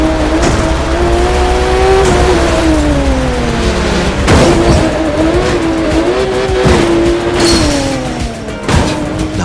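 Race cars roar and whine through a city race in The Crew 2, engines revving hard close up with rising and falling pitch, gear shifts and tire squeals, loud and continuous.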